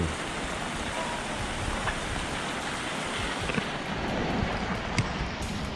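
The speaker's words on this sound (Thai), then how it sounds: "ขึ้นรถก่อนฝนตกหนักมาก" Heavy rain pours down during a trip in northern Thailand, a dense, unbroken hiss that fills the whole stretch with occasional louder spatters.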